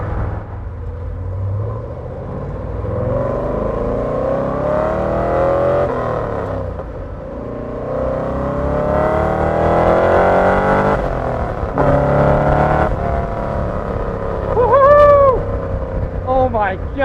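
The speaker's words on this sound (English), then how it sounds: "Once I went full throttle, the induction noise gets super loud. That carburetor starts with a completely different noise." A 1963 Chevrolet Corvette Stingray at full throttle, its carburetor induction roaring loud and rising as the engine revs climb in waves, a deep rumbling drone with brief dips between pulls.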